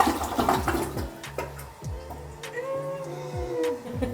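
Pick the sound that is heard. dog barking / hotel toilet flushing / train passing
hotel toilet flushing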